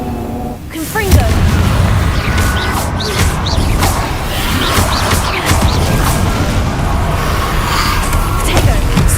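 Confringo spell cast in Hogwarts Legacy, a loud burst of crashes, booms and whooshing blasts that keeps going as a dense battle din throughout, with no clear pauses.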